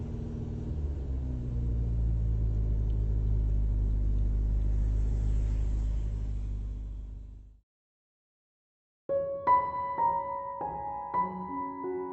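A car engine runs steadily with a loud, sustained low rumble for about seven seconds, then cuts off abruptly into silence, after which tonal musical notes play.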